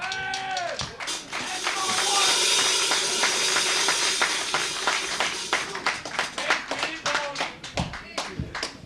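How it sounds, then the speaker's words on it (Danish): Audience applause in a Danish judging show, a burst of hand claps rising into a dense patter, then thinning to scattered individual claps while a voice speaks over it. "Skal vi klappe lidt af de ben?"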